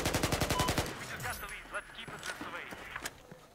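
A rapid burst of automatic gunfire in Battlefield 4 multiplayer opens the clip, followed by scattered shots and game effects while a voice talks quietly underneath.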